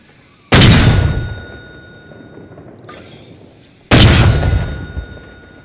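Two heavy mortar rounds fire in the Arma Reforger video game, each a loud booming thump with a long decaying tail, a few seconds apart, with a faint metallic clink between them.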